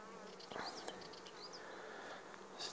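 Honeybees buzzing steadily at an open hive during a spring inspection, a close, continuous drone with brief louder passes of individual bees near the listener.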